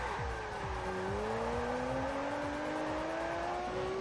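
Car drifting in the racing game Test Drive Unlimited, with a steady engine drone that slowly climbs in pitch under a continuous loud tire squeal, sustained throughout with no talking.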